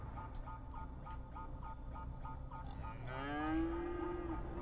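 Cows mooing in the Cities Skylines Parklife city-building game, one long, low, drawn-out moo near the end over a steady rhythmic ticking game soundscape, with no talking.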